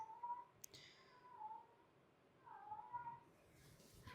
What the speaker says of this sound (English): I don't know if you can hear my cat yowling, but he is out there singing the song of his people.